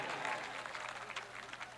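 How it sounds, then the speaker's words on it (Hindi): Audience applause at a poetry mushaira in Fakharpur, Bahraich, India, a short, fairly faint burst of steady clapping from a crowd. "ये शेर मैं एक बार ताली बजा दें सब लोग"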